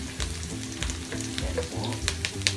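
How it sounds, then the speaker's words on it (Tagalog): Onions sautéing in a pan until light brown, a continuous close sizzle with steady crackle, soft spatter pops and occasional stirring scrapes, under a low rhythmic hum and with no voices. "Hintayin lang natin maging light brown ang ating sibuyas"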